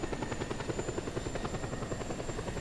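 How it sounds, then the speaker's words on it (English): A military helicopter flies in the video game Just Cause 2, its rotor chopping in a steady fast rhythm over a continuous engine whine, loud and close with no speech. "it spawns with a military helicopter with unlimited machine gun rounds"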